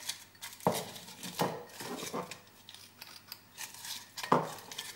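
Homemade potato chips tossed with salt in a bowl, giving light crisp rustling and clinking scrapes with a few sharper knocks against the bowl, close and fairly quiet.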